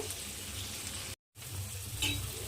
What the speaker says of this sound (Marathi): लसणाचं थोडं प्रमाण कमी पाहिजे हीटमुळे आता याला मी छान परतून घेते